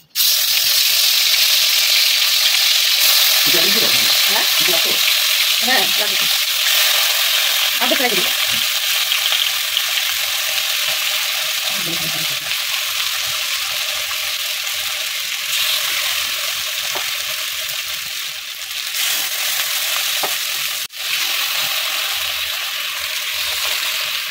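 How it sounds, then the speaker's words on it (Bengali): Hilsa fish pieces fry in hot mustard oil with black cumin in a wok, a loud continuous sizzle close by. A few soft clinks and scrapes run through it, and a faint voice is heard briefly. "এখন মাছগুলো ছেড়ে দেওয়া হবে কড়াইতে।"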